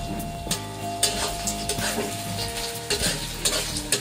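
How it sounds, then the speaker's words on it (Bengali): Shrimp frying with onions in a pan in a home kitchen, giving a loud, close sizzle with repeated stirring scrapes and clatters at a steady rhythm, no talk. "চিংড়ি মাছটা এখন এই পেঁয়াজের মধ্যে দিয়ে ভাজা নিব।"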